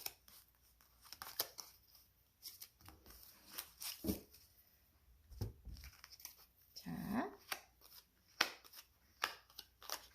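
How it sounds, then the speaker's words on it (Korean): Tarot-style cards are shuffled and drawn close by: scattered crisp riffles, soft slides and paper flicks in irregular bursts, with quiet pauses between and no talking. "자 카드를 한번 뽑아 보겠습니다."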